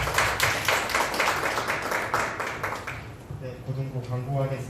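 A church youth-group congregation claps together in steady, fairly close applause for a few seconds, then it thins out while a voice speaks over the fading claps.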